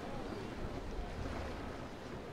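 Steady wind rushing over open sea in the naval sailing game Naval Action, a continuous broadband roar with no breaks and no talk.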